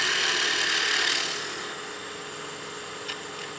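A skew chisel cuts and rounds off the corners of a wood blank spinning on a lathe, a steady close rasping hiss that is louder at first, then fades to a quieter whir.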